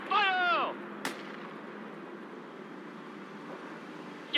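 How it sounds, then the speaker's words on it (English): A launcher fires in the World in Conflict war game: a rising whistling whine, then one sharp, loud blast followed by a long, low rumbling tail of battlefield noise. "Get the launcher and fire!"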